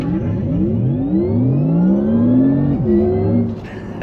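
A Porsche Taycan electric car launches hard under launch control, giving a loud, close, continuous electric whine that climbs steadily in pitch like a sci-fi engine spooling up, with no voices.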